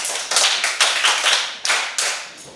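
Applause from a school class for a girl who answered a question, short bursts of hand clapping rising and fading several times in quick succession, close and loud.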